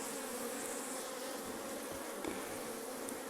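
Honeybees at an observation hive, disturbed while queen cells are being harvested, give off a steady, dense buzzing hum that persists throughout without any speech.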